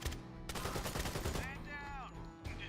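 Rapid automatic gunfire in the Blackout video game, dense bursts of shots close by, pausing briefly then resuming, with a voice speaking over part of it.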